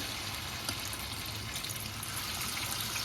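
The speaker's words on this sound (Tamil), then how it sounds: "எண்ணெய் கொஞ்சமாக விட்டுக்கிறேன்" A little oil is poured onto a hot pan while making ragi vegetable bun dosa, giving a steady, even hiss and sizzle that stays close and constant for the whole moment without any talking.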